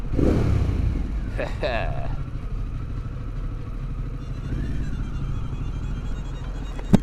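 Harley-Davidson Pan America Special motorcycle on the move, a steady low engine rumble and road roar throughout, with a brief rising whine near the start and a short knock at the end; a voice is heard over the engine.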